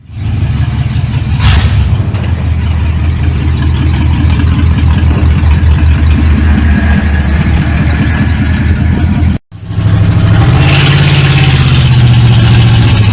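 A 1995 Ford F-250 truck engine idles loud and close, a steady rumbling throb with one brief dropout before it carries on, slightly rougher.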